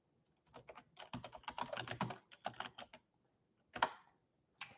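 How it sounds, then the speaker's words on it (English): Irregular pecking on a computer keyboard, bursts of clicky keystrokes with short pauses, close and fairly quiet, no talk. "The pecking on the keyboard like I know what I'm doing."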